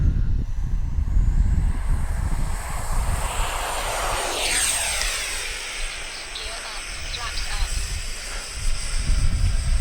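A radio-controlled F-15 Eagle model with twin 64mm electric ducted fans takes off, its rising turbine-like whine sweeping past overhead and fading, over steady outdoor wind and rumble.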